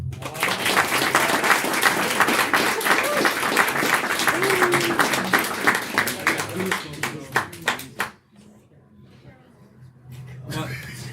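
An open mic audience breaks into sustained applause, dense clapping that thins into scattered claps and fades out, followed by a quieter room with faint voices.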